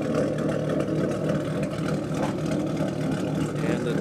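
A 2013 Ford Mustang idles outside, its steady engine rumble holding close and constant throughout with a slight rise partway through.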